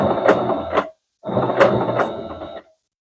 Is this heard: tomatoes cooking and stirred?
no